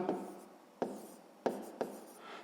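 Pen strokes on paper while working a sixth-grade math exercise, four short scratchy marks spaced about half a second apart, close and quiet.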